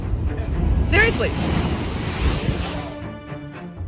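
Massive Pacific ocean waves surging and crashing with strong wind buffeting the microphone, a loud, sustained roar of surf with a brief higher whine near the start.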